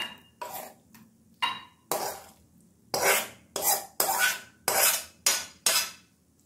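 A spoon stirs a pumpkin and mung dal curry in a pan and scrapes it out into a bowl, giving about ten close, loud, rhythmic scraping strokes with short pauses between them.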